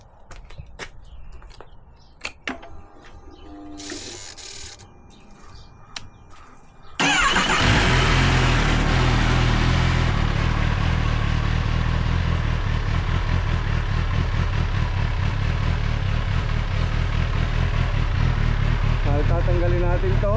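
A 2024 Kawasaki ZX10R with its stock exhaust starts after a few clicks and quiet moments, then idles loudly with a deep, steady, throbbing pulse up close.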